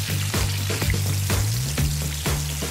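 Shrimp fry in vegetable oil in a restaurant pan, giving a loud, dense, continuous sizzle with a low hum and periodic sharp scraping strokes, close by.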